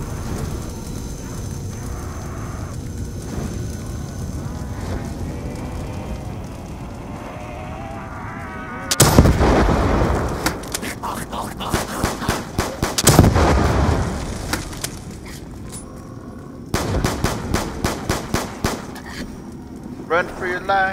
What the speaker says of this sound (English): Big ass rocket launcher.